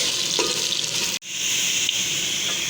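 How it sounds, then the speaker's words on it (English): Onions fry in hot oil in a pan for beef nihari, a dense, loud, continuous sizzle with one brief drop-out midway and a faint stir, no voices over it. "So first of all we have to fry the onion"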